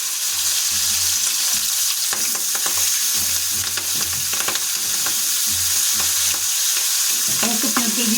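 Chopped onion stalks sizzle loudly in hot oil with a dried red chili and black cumin, while a spatula scrapes and stirs the pan in irregular strokes under a steady, close frying hiss; no voices.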